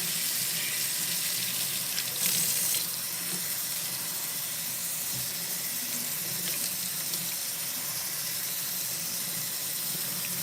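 Tap water runs steadily into a sink while something is rinsed out at home, a constant broadband rush with a brief louder splash near the start and no talking.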